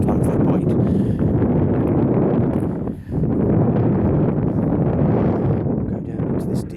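Strong wind on an open hillside at Lavendon Castle buffets the microphone in a continuous low rumble, briefly dropping off for a moment before roaring back.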